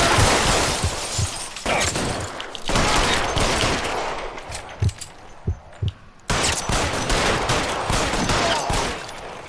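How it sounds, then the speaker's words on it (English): Loud bursts of rapid gunfire in the video game L.A. Noire crackle and roar almost nonstop, with sharper single shots and brief lulls between volleys. "I heard something too, a lot of gunshots."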